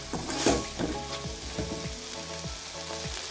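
A pan of moringa flower poriyal with a little sugar gets stirred, giving a soft low sizzle broken by repeated spatula scrapes and knocks in an uneven rhythm, fairly quiet and close.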